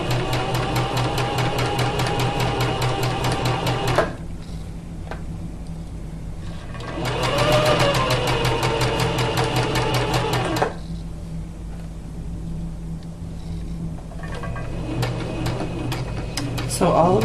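A sewing machine stitches fabric in bursts, running fast and close for a few seconds, pausing, then running again, with faint ticks and quiet handling in the gaps.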